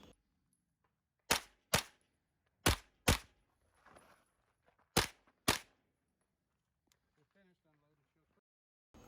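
Gunshots from a pistol caliber carbine engaging clay targets at a state championship match: six sharp, loud reports fired in quick pairs, followed by quieter shuffling and faint voices.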